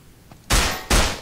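Two loud, close gunshots from the video game Estranged: Act 1, the second following shortly after the first, each with a lingering echo.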